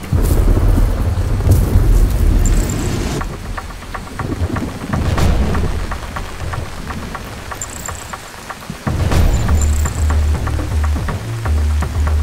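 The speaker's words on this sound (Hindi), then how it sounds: "लेकिन सर बाहर बहुत बारिश हो रही है।" Heavy rain pours outside in a steady loud hiss, with sharp cracks and rumbles of thunder breaking in twice and the downpour swelling again afterward, no voices.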